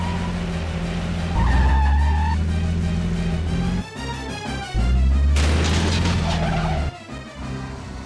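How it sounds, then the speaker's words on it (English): A car in the Blue Stinger video game speeds up with skidding tires and roaring engine, then smashes through a research lab's front gate with a loud crash, followed by more engine and tire noise. "watching the boys kick the car into high gear and the satisfaction of busting straight through the research lab's front gate"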